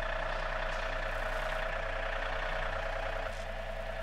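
A John Deere 3E series compact tractor idles in neutral with a backhoe attached, giving a steady, even engine drone with a constant tonal hum that holds unchanged for the whole stretch.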